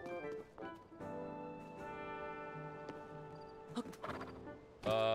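A horse in the video game The Legend of Zelda: Tears of the Kingdom whinnies with a long, bright neigh. Scattered clip-clop hoofbeats sound around it at a fairly low level.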